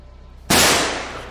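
A single loud gunshot sound alert on a live stream cracks out suddenly after near-quiet, then trails off in a short fading tail.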